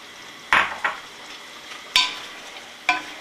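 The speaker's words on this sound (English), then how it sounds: "Now I'm going to add the potatoes." Potatoes tumble into a pan of curry and are stirred, giving three sharp scraping, clattering bursts at intervals with a soft sizzle in between.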